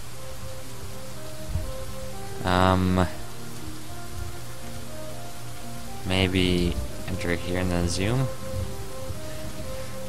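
Steady hiss of rain in Dwarf Fortress, constant and even beneath someone talking over it in two bursts.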